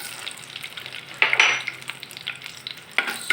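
Two dried red chilies fry in hot oil, a soft steady sizzle broken by a few sharp scrapes of stirring in the pan.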